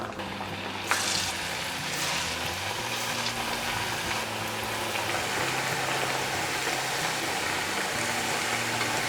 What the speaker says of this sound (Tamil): ஸோ எண்ணெய் சுட வச்சுட்டு இது வந்து இப்போ நம்ம டீப் ஃப்ரை பண்ணிடலாம்.